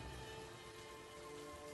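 Heavy rain pours down steadily and continuously, a dense hiss of drops drumming on surfaces around a broken-down hut, with no voices heard.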